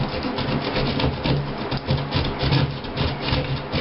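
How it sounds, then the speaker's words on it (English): Utility knife scoring and cutting out a square of sheetrock to repair a hole in a wall, a continuous scraping, rasping drag with uneven strokes, close and fairly loud, no speech. "you get your utility knife and you just go around, just go ahead and go cut that particular sheetrock"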